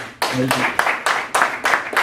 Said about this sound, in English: give Dr. Ball a round of applause, y'all